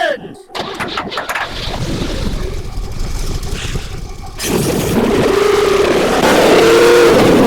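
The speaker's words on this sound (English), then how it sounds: "Gentlemen, start your engines!" Race car engines crank and fire up in a cartoon racing scene, then swell into a loud, sustained revving roar that grows steadily louder toward the end.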